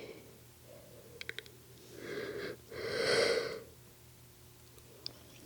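Slow, deep breathing during a yoga stretch, with a long audible inhale and a breathy exhale heard close and quiet, plus a few faint clicks.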